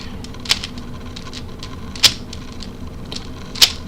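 A DaYan 3x3x3 speed cube is turned, with three sharp plastic clacks spaced about a second and a half apart and light, faint clicking in between, close and alone.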